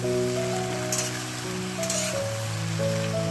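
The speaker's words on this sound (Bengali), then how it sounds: "এইবার আমি তেলের মধ্যে এটা ভেজে নেব কিছুক্ষণ" Jujube pickle ingredients sizzle steadily in hot mustard oil, a dense, continuous crackling hiss with no breaks, heard under sustained background music with no talking.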